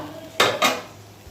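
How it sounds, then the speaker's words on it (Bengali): Leftover rice is scraped from a bowl into a cooking pot, giving two quick, close scraping clinks about a quarter second apart, followed by a faint soft knock. "বাটিতে অল্প চাল আছে কাচিয়ে দেবো"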